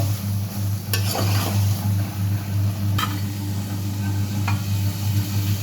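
Fish frying in a pan, a steady close sizzle broken by a few sharp utensil clicks, over a constant low hum.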